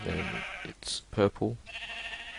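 Sheep in a modded Minecraft game bleat in short, nasal bursts, one high cry and then a couple of wavering bleats, close and clear between a player's spoken commentary.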